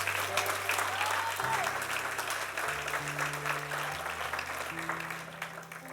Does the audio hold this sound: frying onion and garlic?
no